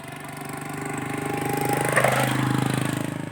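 A motorcycle engine idles steadily in the early morning, a close, continuous rhythmic putter that swells slightly toward the middle, with no talk over it.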